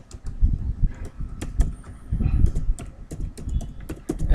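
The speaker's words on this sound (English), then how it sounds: "In the search box you need to write down Google" Typing on a computer keyboard, a quick run of close, crisp key clicks with uneven rhythm and a few heavier strokes, alone without voices.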